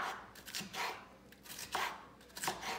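A knife chopping pepper on a cutting board while prepping an omelette, a handful of quick, close, crisp cuts in short bursts with pauses between, quiet and alone.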